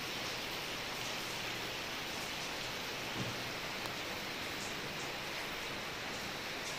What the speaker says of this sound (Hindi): ये देखिए बहुत तेज से बारिश है।